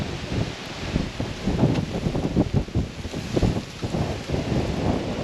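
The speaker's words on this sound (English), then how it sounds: "It's getting windy here" Gusty wind buffets the microphone in uneven bursts, a rough low rumble rising and falling with no voices.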